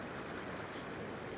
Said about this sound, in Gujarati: નદી જોવો તમે આખી ભરાઈને જાય છે